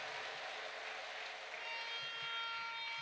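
Broadband clapping from a church worship congregation, a steady dense wash of many hands at moderate level with no talk over it.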